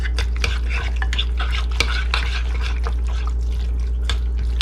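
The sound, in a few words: mixing chicken marinade with salt and teriyaki sauce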